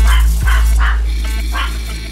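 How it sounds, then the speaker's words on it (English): A small dog barks loudly, a few sharp yaps spaced across a couple of seconds, close by and alone with no talking. "I never cease to be amazed by how loud a small dog can be."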